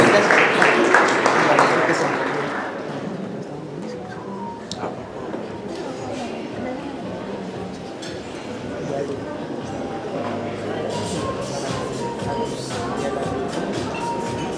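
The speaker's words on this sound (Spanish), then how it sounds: "Demos un fuerte aplauso para despedir a nuestros panelistas" An audience applauds departing panelists at the end of a panel discussion on the economy, with dense clapping loudest at the start, then a steadier crowd murmur and scattered claps under talk.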